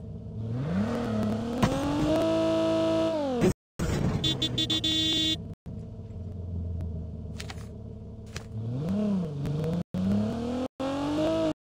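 A vehicle engine in Call of Duty Mobile revs and whines, rising and falling in pitch across several bursts, with abrupt cuts into silence and short game sounds between.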